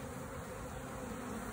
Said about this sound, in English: I have a feeling since there's bees all over it, she's still in there.